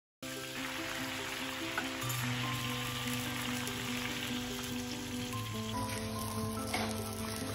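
Hot oil sizzling in a wok as a roast starts cooking, a steady close crackle and hiss that holds evenly throughout with no voices, with a constant tonal hum beneath it.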